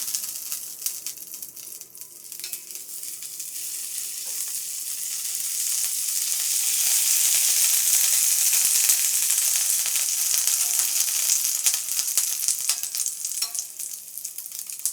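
Millet pancake batter cooks in a pan with homemade butter, giving a continuous close hissing sizzle that swells louder midway and stays steady, with no talking.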